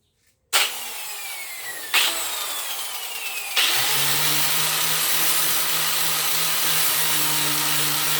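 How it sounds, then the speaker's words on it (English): A power grinder spins up in stages while cleaning metal chair parts, with three rising bursts and then a loud, steady whining grind close by, with no talk. "I need to first go grind all these things clean, make them a little bit looks nice"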